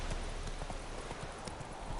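Hooves of Roach, the horse in The Witcher III, clip-clop in a steady rhythmic gait, moderately close and continuous.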